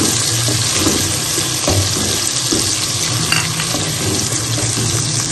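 Steady sizzling of ginger and garlic frying in hot oil, with occasional stirring scrapes, continuous and close throughout.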